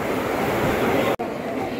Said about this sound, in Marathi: ट्रेन आलेली आहे आमची